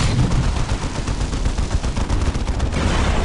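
Rapid sniper and automatic gunfire crackles continuously through a Warhammer 40,000 Dawn of War battle with the Unification Mod and Angry Marines Mod against Orks, dense and loud with no pauses.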